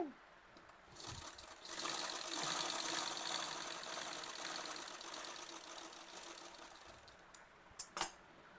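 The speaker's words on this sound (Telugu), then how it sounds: "ఈ ఎడ్జ్ ఉన్న వైపు నుంచి ఇలా అటాచ్ చేసుకుంటూ కుట్టుకోవడమే" Sewing machine stitching a langa waist belt, a steady whirring run of about six seconds at close range that starts and stops with a few light clicks, with no talk heard.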